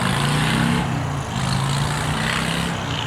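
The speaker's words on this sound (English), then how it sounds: "Oh, nice motorcycle." A motorcycle engine drones steadily with a low, tonal hum that shifts pitch slightly as it passes by, loud and close throughout.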